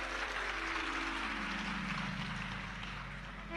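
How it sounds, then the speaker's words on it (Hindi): Audience clapping as a dense, steady wash of many hands, fairly faint and continuous, with a low hum running underneath. "नहीं, ताली बजाने से कुछ नहीं होगा री जीजियो,"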